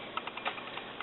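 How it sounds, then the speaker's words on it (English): Small sharp snips from scissors cutting thread at a Willcox & Gibbs sewing machine during quilt piecing, a few quick clicks close by with no talk. "I come in with my snipping scissors that I keep around my neck"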